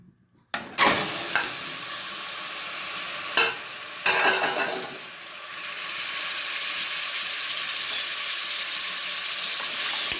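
Washed mutton pieces go into a generous amount of well-heated oil, setting off a steady, close sizzle with a brief clatter as they land; the frying grows louder and fuller partway through. No one speaks.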